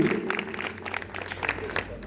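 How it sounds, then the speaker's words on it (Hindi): An audience at a Khatu Shyam kirtan claps for the organising committee, a brief dense patter of applause mixed with talk and crowd noise. "एक बार जोरदार तालियां बजाएं पूरी समिति के लिए।"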